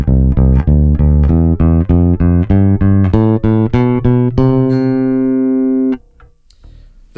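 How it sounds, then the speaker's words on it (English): Epiphone Toby Deluxe V electric bass on its neck pickup plays an ascending major scale, one clear plucked note after another, then a final note rings out and decays into quiet. "I have the pickup set on the neck pickup, and that's how this sounds. I'll just play a simple major scale."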